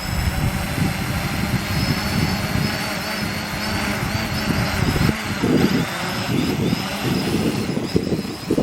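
A small drone on its second flight hovers and maneuvers close by with a constant loud whirring buzz of its rotors that shifts slightly in pitch, while people talk intermittently underneath.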